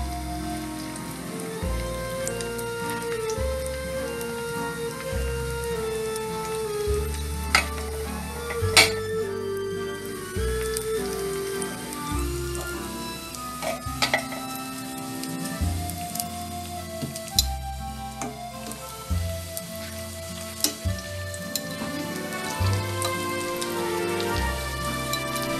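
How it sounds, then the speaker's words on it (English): Lumpia spring rolls fry in hot oil over low-medium heat, giving off a constant patter of fine crackling bubbles like light rain, with a steady background music track playing over the sound throughout. "we start to fry in a low medium"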